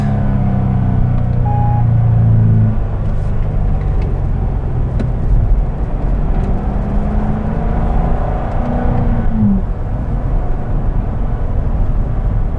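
A 2008 Chevrolet Corvette Convertible accelerates between corners, a loud, steady engine rumble and whir with a rising rev near the start and a shift late on, heard from close by with no talk.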